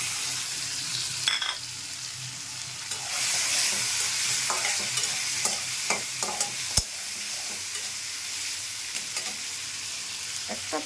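Onion, garlic and ginger paste with turmeric powder fries in a pan for a tengra fish curry. A loud, steady sizzle runs throughout, broken by frequent scraping stirs and a sharp clink of the utensil.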